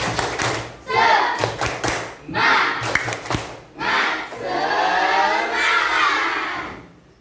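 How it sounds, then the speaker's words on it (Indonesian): Classroom of students performing the rhythmic "tepuk semangat" clapping chant: bursts of claps and thumps with shouted voices, then a sustained group cry, close and loud. "Tepuk semangat."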